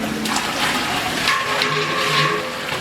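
Bone soup water poured into a giant pot of 2000 kg mutton haleem in Chennai, a loud steady gushing splash with sloshing bursts throughout, no talk.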